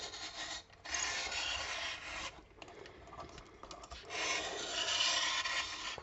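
A cheap handheld rotary cutter rasps steadily as its blade rolls through material, a dry scraping texture with one brief pause and a second, louder stretch of cutting toward the end.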